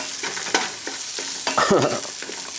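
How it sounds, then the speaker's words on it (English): Vietnamese curry ingredients sautéing in a pan, with a steady sizzle of frying food and occasional stirring scrapes and clanks, close and moderately loud, with no talking. "Let it saute for a few minutes."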